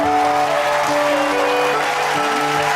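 Studio audience applauding on a Kannada celebrity talk show, a steady dense wash of clapping throughout with tonal background music running underneath.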